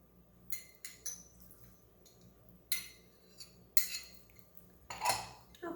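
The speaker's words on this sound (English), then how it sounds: "I'm going to use a fork and just stir it around" Fork stirring mug cake batter of egg yolk, sugar, milk and vanilla in a mug, giving a few separate clinks and scrapes against the side at irregular intervals, fairly close and quiet.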